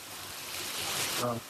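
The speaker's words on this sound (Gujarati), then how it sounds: "ભાઈ ધોધમાર વરસાદ આવે છે" Heavy monsoon downpour in Ahmedabad, a steady broadband hiss of rain filling the whole clip at moderate level, with a voice briefly audible near the end.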